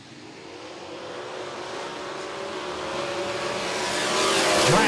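ASCS sprint cars race at Salina Speedway, a pack of engines roaring at a distance and steadily swelling louder as they accelerate toward the green, with a continuous rising drone.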